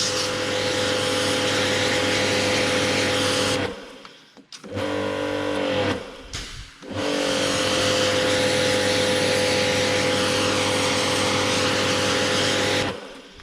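A Kärcher K7 pressure washer with a newly replaced capacitor sprays a wall with a steady, loud motor roar and hiss. It cuts out briefly with a few stuttering sounds, then starts up again and runs on evenly.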